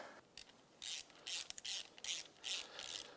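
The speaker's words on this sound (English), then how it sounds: "let's get our throttle body boots tightened down" A ratchet tightening the clamps on throttle body boots: repeated quick bursts of clicking, about six short strokes with brief pauses between them, close and fairly quiet.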